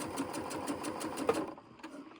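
A sewing machine runs a side seam on a shirt, a fast close mechanical whirr of rapid stitches for about a second and a half before slowing and stopping, with a few faint clicks after.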